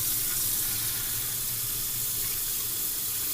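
Hot water runs steadily from a kitchen sink tap, a close, continuous hiss and splash with no pauses and no voices.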